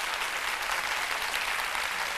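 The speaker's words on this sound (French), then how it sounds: "on va l'accompagner avec des applaudissements" A studio audience on a midday television talk show claps in a dense, steady wash of applause, loud and uninterrupted for a couple of seconds with no talking.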